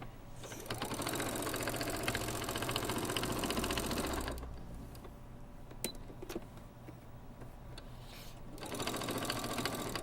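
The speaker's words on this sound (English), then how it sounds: "the first thing I do is sew the seam shut" A sewing machine runs steadily, sewing the seam of a throw pillow shut, with a continuous close mechanical whir that stops briefly in the middle and then starts again near the end.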